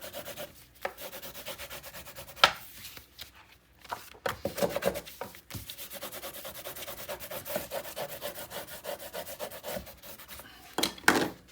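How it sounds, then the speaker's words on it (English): Firm, close rubbing and scraping strokes come from burnishing paper onto a scrapbook mini album page, continuing steadily in repeated passes with sharper scuffs near the end. "Giving it a good old firm burnish."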